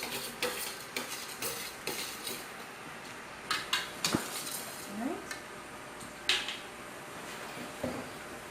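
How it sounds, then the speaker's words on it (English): A whisk beating tamarind in a bowl to free the seeds from the pulp, giving repeated clicking, scraping strokes of metal against the bowl in an irregular rhythm, close and moderately loud, with no voices. "I'm just going to take the whisk and use the whisk to agitate the tamarind a bit"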